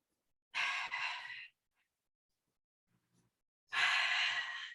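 Two long, loud, breathy exhalations during a Pilates exercise, separated by a quiet pause with a faint inhale between them.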